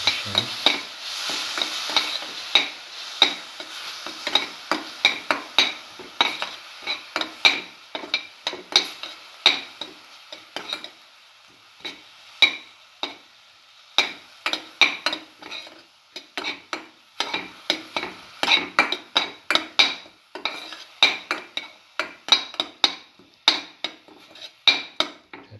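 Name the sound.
shallots frying and being stirred in a pan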